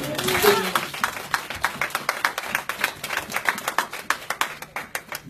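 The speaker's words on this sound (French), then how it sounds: "Applaudissez-vous" A church congregation claps along in a steady, rhythmic beat of distinct claps that follow an opening voice, with speech mixed in throughout.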